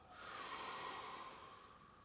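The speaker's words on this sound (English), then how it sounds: "Exhale." A slow, soft exhale through the mouth during diaphragmatic belly breathing, a quiet steady breathy hiss lasting about two seconds, close and alone.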